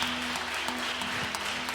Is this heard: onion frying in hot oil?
no